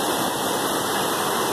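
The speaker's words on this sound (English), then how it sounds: "This river here, the nice little scaffolding bridge running across it, is all glacial runoff." Glacial runoff river rushes beneath a small scaffolding footbridge on a Washington mountain trail, a loud, dense, unbroken roar of fast-flowing water heard up close.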